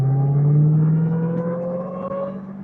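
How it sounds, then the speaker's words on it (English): A 2022 Dodge Charger Hellcat Redeye Widebody revs, its deep engine drone joined by a rising, whining supercharger tone that climbs steadily and then eases off, close and loud with no talking. "Is there a better sound than a blower whine?"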